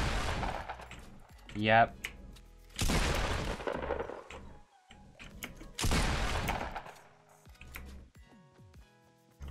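Pump shotgun blasts in Fortnite, three loud booming shots spaced a few seconds apart, with pump-action clicks and brief talk between them.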